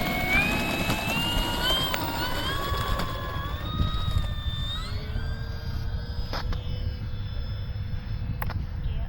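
An Eflite F4U Corsair 1.2 m electric RC plane on a 4S battery takes off. Its motor whine climbs in pitch and then fades as it moves away, over steady wind rumble outdoors.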